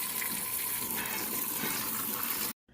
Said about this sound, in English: So let's get our pan washed and get these back on the stove.